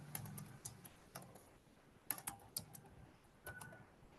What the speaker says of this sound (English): So I'm typing for Google Ads.